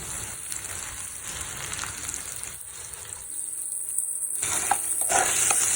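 Chopped onion and tomato sautéing in a pan for an Agri-style prawn and onion dish: a steady, close, fairly loud sizzle and hiss with occasional stirring scrapes, and no one speaking.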